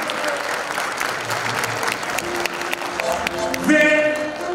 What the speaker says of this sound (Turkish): Şöyle daha kuvvetli bir alkış alalım. Öncelikle alkışımız değerli orkestramıza gelsin